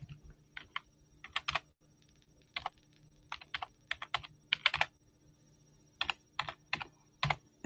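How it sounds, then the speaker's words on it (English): Clicky keystrokes on a computer keyboard come in quick irregular bursts with brief pauses between words, close and fairly quiet over a faint background hum. "I'm typing it in."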